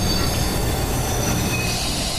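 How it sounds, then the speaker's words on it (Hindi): A train slows as it pulls into a station, its wheels squealing and grinding on the rails in a loud, continuous metallic wash with no voices over it. "अजीत तभी बाहर देखता है ट्रेन स्लो होकर रुक चुकी है।"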